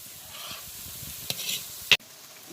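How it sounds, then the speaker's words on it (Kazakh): Sweet peppers with one or two hot peppers fry in a pan with a soft, steady sizzle, then a single sharp utensil knock near the end. "Бұны енді біз 10 минут қуырамыз"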